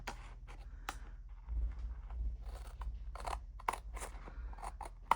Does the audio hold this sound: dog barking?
no